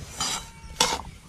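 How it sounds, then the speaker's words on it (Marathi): Semolina roasting in ghee in a pan for sheera, two brief scraping strokes of a spoon against the pan as it is stirred, close and fairly soft, with no talking. "गॅस कमी करून आपल्याला भाजायचं आहे चांगला, खाली लागता कामा नाही, आणि बघा असं ढवळत राहायचं"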